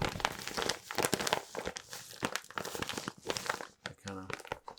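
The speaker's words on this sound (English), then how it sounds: "it just makes some nice crinkling sounds." A strange novelty hat is crinkled and crushed up close in an ASMR setting, producing dense, crisp crackling bursts with brief pauses, accompanied by soft talking.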